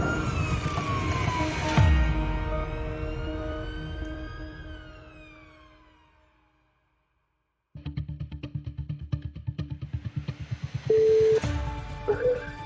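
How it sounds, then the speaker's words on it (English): An ambulance siren wails on an emergency call, its rising and falling tones sweeping as the vehicle drives, then cutting to silence before rapid yelping siren cycles resume loudly. "Blue lights and sirens as fast as they possibly can."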